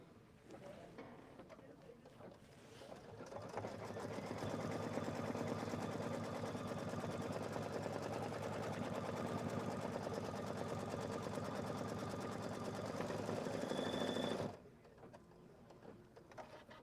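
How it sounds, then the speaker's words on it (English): An embroidery machine stitches a long basting stitch with a steady, buzzing, rapid mechanical whir that holds evenly for about ten seconds before cutting off abruptly, with quieter room noise before and after. "So it did a big basting stitch on the outside, and now it's doing like a triple stitch."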